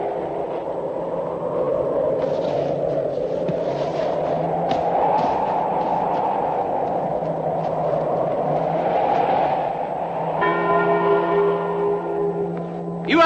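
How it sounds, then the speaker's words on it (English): A bell rings near the end over a steady low rumble that sounds like a moving train, with clear ringing tones rising above the background in an American Western film scene. "Get rid of that bell!"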